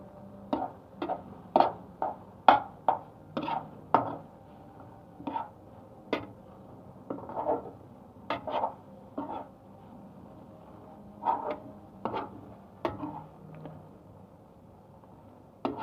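Scrambled eggs stirred slowly in a pan over low heat, a utensil tapping and scraping the pan in an uneven, repeated rhythm, fairly quiet and close, with no talking.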